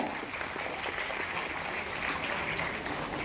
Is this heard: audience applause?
yes